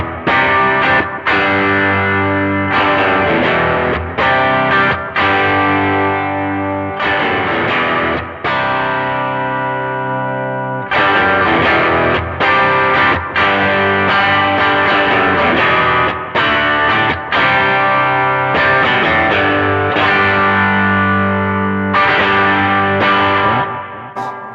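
An electric guitar played through a distorted amplifier, with chords ringing out in thick, sustained bursts separated by short breaks, loud and up close with no talking.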